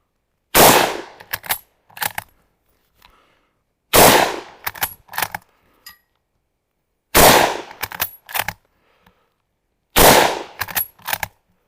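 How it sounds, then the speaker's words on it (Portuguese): A Mauser-Vergueiro 1904/39 bolt-action rifle fires four loud, close shots at steady intervals, each followed by the metallic clacks of the bolt being cycled, with no talking. "Vou disparar o último carregador que temos de tiros"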